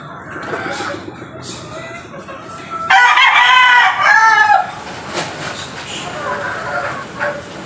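Free-range chickens cluck in a farmyard while a rooster crows loudly and close for a couple of seconds midway, with softer clucking continuing before and after.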